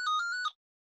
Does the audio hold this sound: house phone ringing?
yes